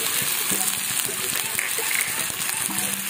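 Onion sizzles and crackles steadily in a hot pan, a constant frying hiss with faint stirring clicks and a voice murmuring underneath.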